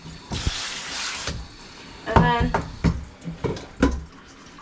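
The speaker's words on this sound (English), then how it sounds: "Kind of spray them off with cold water" Cold tap water sprays over potatoes being rinsed in a kitchen sink, a short hissing gush followed by clunks and splashes of handling, with a voice speaking briefly over it.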